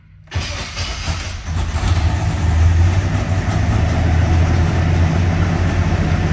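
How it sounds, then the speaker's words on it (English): A 454 big-block V8 in a 1965 Chevrolet Malibu SS cold-starts after a short crank, catching abruptly and settling into a loud, deep, rumbling idle that builds slightly and holds steady close by. "I'm going to go ahead and fire this 454 up"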